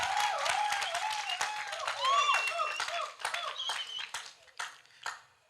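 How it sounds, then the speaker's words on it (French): An audience claps for two choirs after their performance in a gospel singing contest, a steady patter of applause with voices over it, fading toward the end. "je voudrais demander au public d'applaudir les 2 chorales qui viennent de passer"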